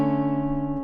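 A single electric guitar major seventh shell chord, third omitted, rings out, sustained and steady with a slight wavering shimmer, then is cut off near the end.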